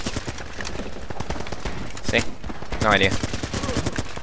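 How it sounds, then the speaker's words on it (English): Gunfire bursts from the video game Running With Rifles, including a shotgun blast, crackling in loud, irregular volleys close by while a player talks over them. "Oh, I got shotgunned!"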